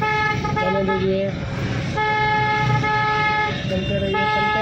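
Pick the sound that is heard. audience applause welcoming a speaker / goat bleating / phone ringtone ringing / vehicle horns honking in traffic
vehicle horns honking in traffic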